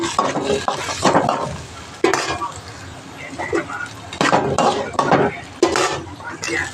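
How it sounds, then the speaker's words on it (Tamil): Crushed turkey berries sautéing in hot oil in a pan: sizzling, with repeated scraping and clinking of a stirring spoon against the pot, close and fairly loud, while a person talks. "இப்போ தட்டி வச்சுருக்க சுண்டைக்காயை போட்டு நல்லா வதக்கி எடுத்துக்குவோம்"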